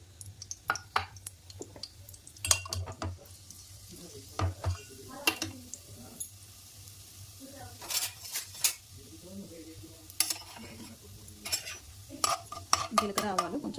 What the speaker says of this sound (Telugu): ఆయిల్ వేడైంది. ఇప్పుడు పోపు గింజలు వేసుకుందాం.